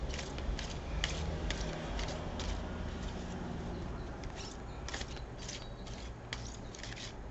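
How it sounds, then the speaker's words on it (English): A deck of oracle cards is shuffled by hand in repeated bursts of quick riffling and flicking, close and crisp, with brief pauses between bursts and no talking. "Let's do a bit of a shuffle and see which card we're going to pull."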